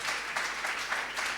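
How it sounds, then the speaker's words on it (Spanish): Church congregation applauding together in a steady, fairly close burst of clapping that fills the whole moment without any speech on top. "Dale un aplauso a Él."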